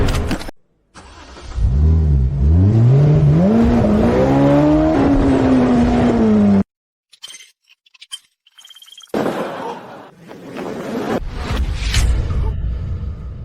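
A Rolls-Royce Phantom engine revs loudly, its pitch swooping up and down for several seconds before cutting off abruptly. A short silence with faint clicks follows, then a lower, steadier rumble of the car moving.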